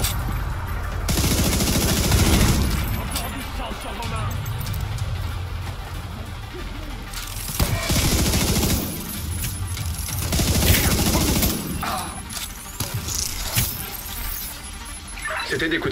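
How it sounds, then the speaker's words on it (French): Gunfire in The Division 2, with bursts and scattered shots in a chaotic firefight, including loud broadband blasts around two and eight seconds, heard under and between a player talking. "C'était des coups de feu, ça?"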